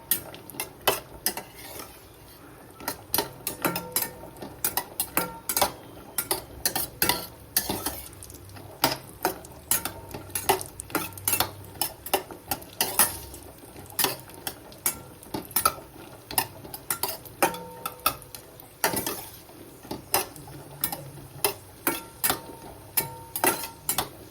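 Spiced cashews being made into a crisp masala snack are stirred in a hot pan, giving repeated sharp metallic scrapes and clinks in an uneven rhythm over a faint sizzle, close up and without talk.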